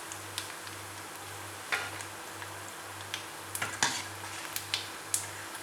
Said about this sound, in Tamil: நல்லா சூப்பராக ஃப்ரை ஆகிடுச்சு பாருங்கள்